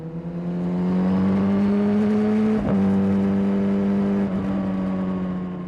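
A Kawasaki ZX10 sport motorcycle accelerates hard past traffic, its engine note climbing in a loud, close whine, dipping briefly at a gear change and then rising again, with wind rush behind and no talk.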